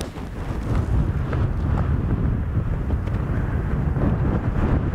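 Strong wind buffets the microphone in the Forest of Bowland in a steady, loud roar with low rumbling gusts throughout, no voices.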